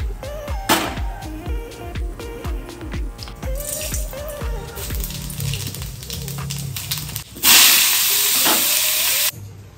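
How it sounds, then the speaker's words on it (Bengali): Marinated Bombay duck fish fry in an oil-filled pan while a utensil stirs them, giving rapid scraping clatters over crackling, then a loud, sustained hissing sizzle burst near the end. "এবার লোটে মাছগুলোকে দিয়ে একটু নাড়িয়ে চাড়িয়ে ওকে ওর মতন হতে দেবো।"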